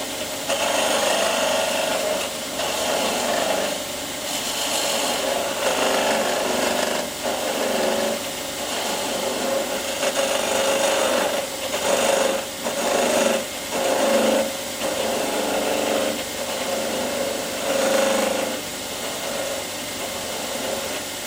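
A spindle gouge cuts wood turning on a lathe while shaping a multi-axis drink cup. It gives a loud, continuous rasping scrape that swells and eases in repeated passes, with no talking.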